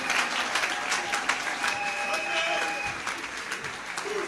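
A church congregation claps and cheers during worship, a dense sustained wash of applause mixed with voices and a few whistles.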